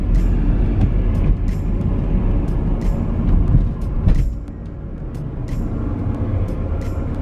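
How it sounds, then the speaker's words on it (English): FedEx delivery truck rumbles past on a street during a walk around a lake, a loud, close engine drone with clanks and a brief hiss before the sound eases as it moves away. "FedEx truck."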